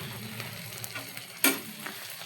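Onion, chili and spices frying in a pan, a soft steady sizzle with a single sharper scrape of a spoon near the middle, close and fairly quiet.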